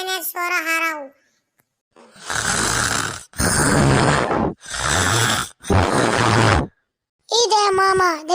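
A man snores loudly in four long, rasping breaths, each a couple of seconds apart, with someone speaking just before and after in a comic scene.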